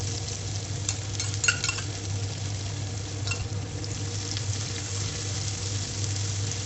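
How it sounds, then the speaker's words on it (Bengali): Chopped onion fries with black cumin in hot oil, a steady close sizzle with a few scraping stirs through the pan and no voices. "সেই পেঁয়াজটা এখন তেলের মধ্যে দিয়ে দিচ্ছি ভাজার জন্য"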